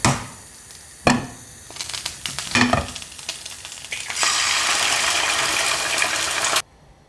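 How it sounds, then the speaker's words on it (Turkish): An egg is cracked straight into a hot pan and fries, a couple of sharp taps followed by steady, loud, close sizzling that swells after a few seconds and then cuts off abruptly. "Göz yumurta için yumurtayı direkt tavaya kırıyorum"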